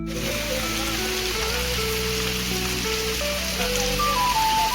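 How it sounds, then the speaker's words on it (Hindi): Steady, dense monsoon downpour in a village, no wind, loud and continuous, with a low tonal hum and musical tones running underneath. "बारिश बहुत ज़बरदस्त हो रही है, मूसलाधार बारिश हो रही है"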